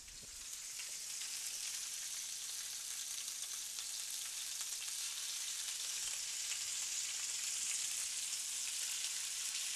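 Pork chops fry in a frying pan over medium to medium-high heat, giving a steady, soft hiss and sizzle that carries on evenly throughout with no voices.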